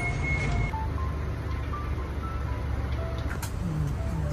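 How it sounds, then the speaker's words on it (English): A postal truck drives past on a New York street, its engine a steady close rumble under constant traffic noise, with faint high tones drifting through and no talking. "Postal truck."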